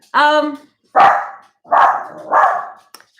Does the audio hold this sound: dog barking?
yes